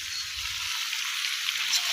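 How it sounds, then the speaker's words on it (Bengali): Broiler chicken pieces and ash gourd fry in a pan over a village cooking fire, giving a steady, close hissing sizzle throughout with no talking. "আমি এখানে মুরগিগুলো ভেজে নিলাম, সাথে এখানে"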